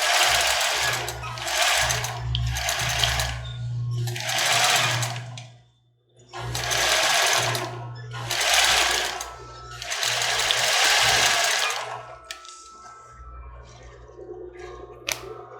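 A sewing machine stitches a small zigzag along a padded bra seam in several close, rapid whirring bursts separated by brief pauses.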